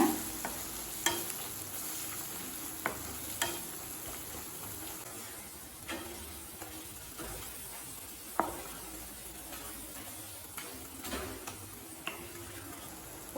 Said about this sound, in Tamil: 1 நிமிஷம் வரைக்கும் நல்லா வதக்கிக்கலாங்க.